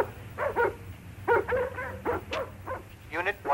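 A black and white Border Collie barks in several short bursts, sometimes in quick doubles, over a low steady rumble.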